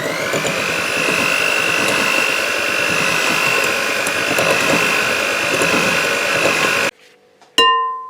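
An electric mixer beats eggs for a dates cake with a steady close-up whirring hum that stops abruptly near the end, followed by a short clink.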